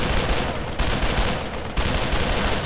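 Dense gunfire from the WWII shooter Brothers in Arms: Road to Hill 30, a loud, unbroken barrage of rifle and machine-gun bursts with several sharp volleys overlapping.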